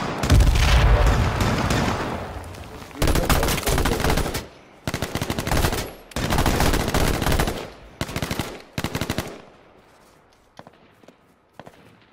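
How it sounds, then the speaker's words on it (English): Loud, close bursts of automatic gunfire in a multiplayer shooter video game, rapid sustained volleys broken by short gaps, then thinning to sparse distant shots near the end. "Are they still shooting at us?"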